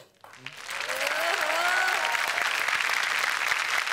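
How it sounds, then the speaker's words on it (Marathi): Audience applause builds quickly and holds as a dense, steady wash of clapping on a Marathi comedy show stage, with a brief voice at the very start before the clapping swells and continues loud to the end. "टाळ्या येऊ द्या इकडे."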